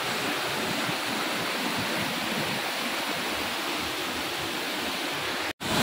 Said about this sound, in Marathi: हा बघा, हा आहे आमचा धबधबा